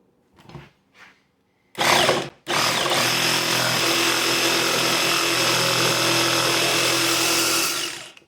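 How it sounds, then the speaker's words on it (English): A jigsaw cuts through a car body panel during a sound deadener install on a Grand Marquis: two faint taps and a short loud burst, then a steady, loud buzzing cut running for about six seconds before stopping. "Guess we'll try the jigsaw first."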